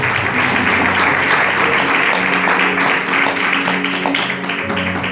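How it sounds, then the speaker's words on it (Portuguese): A church congregation claps strongly and joyfully, a dense, steady wash of many hands held at high level for the whole stretch, with faint tonal music or voices running underneath. "as palmas são bem fortes, bem alegres para Deus"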